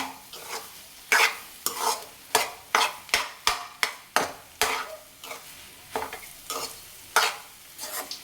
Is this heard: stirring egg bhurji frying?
yes